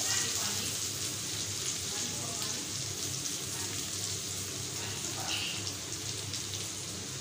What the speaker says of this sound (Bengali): রসুনটা হালকা একটু বাদামি কালার করে ভেজে নিব।